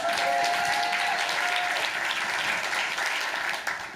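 An audience at a talk breaks into applause, a broad, steady wash of many hands clapping that holds for a few seconds at full strength and then eases slightly, with a faint tone running briefly underneath.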